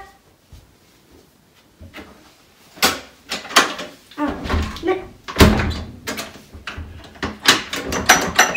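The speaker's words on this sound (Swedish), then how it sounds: "dörren går inte upp" A locked door is tried and rattled, with a burst of repeated thumps, clunks and handle jiggles growing louder after a quiet start, along with faint voices.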